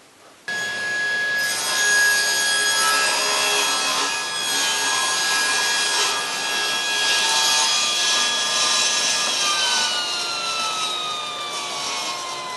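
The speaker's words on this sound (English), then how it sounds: "So the plywood is a little bit too wide for my miter gauge on my table saw here, so I'm going to use my sled." A table saw cuts plywood on a crosscut sled. The whine starts abruptly, then a loud, steady cutting hiss runs for about ten seconds before the blade tone drops away at the end, with no talking.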